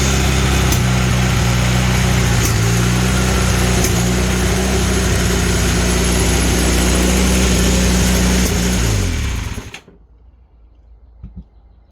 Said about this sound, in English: I guess we got ourselves a running engine